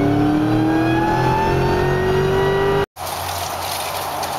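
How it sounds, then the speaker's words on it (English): Car engine fitted with water-methanol injection revving at wide open throttle, pitch climbing steadily through a long pull, then a sharp gear change and renewed loud acceleration. "Press back on the gas pedal, and there we go, engine comes back to life."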